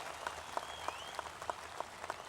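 Applause from a crowd at a Maharashtra election rally speech, with scattered claps forming a soft, steady patter that sounds fairly distant.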